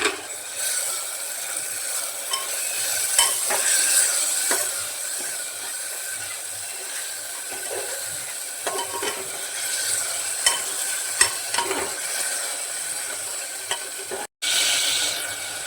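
Spice masala of turmeric, salt and a splash of water frying and being stirred in a pressure cooker pan for mutton curry: continuous close sizzling with repeated scraping strokes and clicks, ending with a sudden brief cutoff, no speech.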